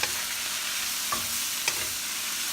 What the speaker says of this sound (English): we'll cook this half cooked before we put the pineapple juice